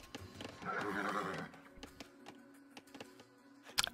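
Horse neigh from a cavalry archer unit in the Age of Empires video game, a single clear whinny in the first half, then quiet game ambience with faint clicks and clip-clops.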